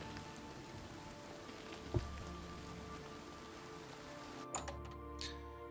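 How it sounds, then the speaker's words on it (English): Steady rain patters on a surface in The Elder Scrolls IV: Oblivion, broadband hiss throughout with a couple of brief louder knocks. "It's always raining in Skingrad."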